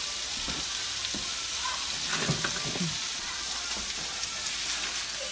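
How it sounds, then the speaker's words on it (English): Kielbasa sizzling and frying in skillets in a home kitchen, a steady crackling hiss with occasional soft stirring clinks, close and continuous. "I got skillets too small for all that kielbasa you want."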